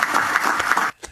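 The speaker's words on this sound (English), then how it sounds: "Cookie there left the applause in there." Applause from a crowd at a memorial speech, heard through a replayed news broadcast, a dense continuous wash of clapping that cuts off abruptly near the end.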